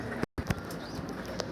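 Pigeons, including foreign breeds, cooing softly near a bathing spot in the afternoon, a few low soft coos amid faint outdoor background, with one brief dropout early on.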